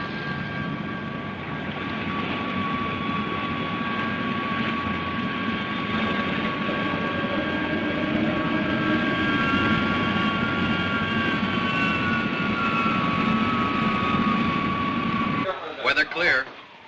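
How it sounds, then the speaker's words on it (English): An X-80 jet aircraft from a 1960 science-fiction film sits at takeoff, its engine giving a loud, steady roar with whining tones for about fifteen seconds before cutting off abruptly. "X-80, standing by for takeoff."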